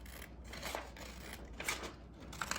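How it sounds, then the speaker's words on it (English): Scissors snip through paper in several quick, close cuts, soft and crisp against a quiet background. "We're going to cut a square."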